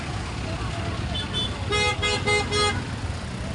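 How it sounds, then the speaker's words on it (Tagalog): Congested street traffic near the Malabon fishport, with a steady engine rumble and a series of several short car horn honks about midway, a voice talking under the noise. "So, traffic na naman po."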